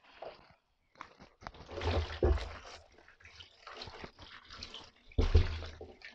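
Water is poured out of a container of catfish fingerlings, splashing and gurgling in uneven surges with a brief quiet gap near the start and a heavier gush toward the end.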